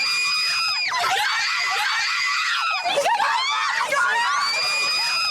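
A large crowd of fans at Bondi Beach screaming loudly and continuously, shrill overlapping high-pitched shrieks rising and falling in waves, close and intense throughout.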